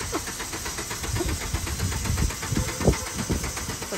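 A car engine cranks over and over without catching, a rough, uneven churning that continues steadily and close by.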